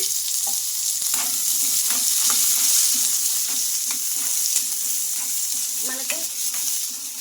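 Pieces of fresh coconut frying lightly in a little oil, a constant bright sizzle with soft scraping stir strokes recurring at a regular pace.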